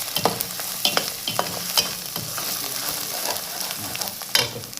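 Ginger-garlic masala fries in a pan, a continuous close sizzle punctuated by irregular scraping and tapping strokes of a spoon stirring against the metal.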